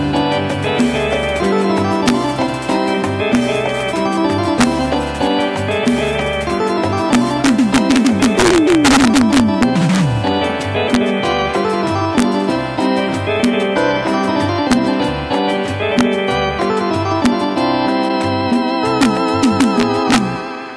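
A live recording of a song with electronic drums and keyboard, full dense band music playing continuously and loudly, with a burst of sweeping synth effects in the middle.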